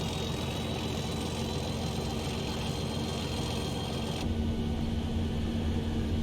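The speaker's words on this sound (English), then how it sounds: "So you can really hear the turbo whine" A steady diesel engine drone from a Class 97 locomotive in a train simulator game, with a thin, high turbo whine riding on top, the whine dropping away near the end while the engine rumbles on.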